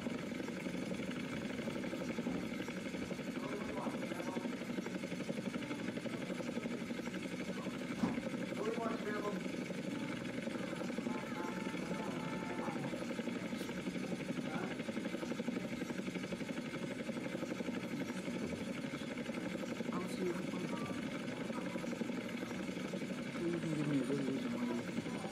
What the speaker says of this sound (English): Why won't the chopper get up off the ground?